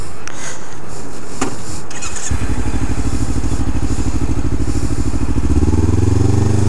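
Ninja ZX-3R motorcycle with bearing issues, starting with a few knocks and clatters before the engine catches and settles into a loud, close, rhythmic idle, then revs up toward the end.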